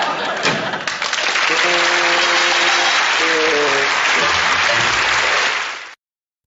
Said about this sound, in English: they kind of go into the big round of applause